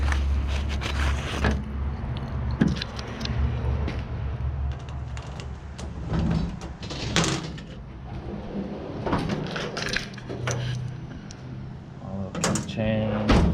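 Drawers of a Snap-on KRA2411 tool chest slide open one after another, with metallic rolling, rattles and clunks in a steady, busy run and no voice over it.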